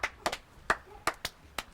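Several people clap hands in a sparse, irregular pattern, with about six sharp, separate claps close by, some in quick pairs and others after short gaps, over a quiet background.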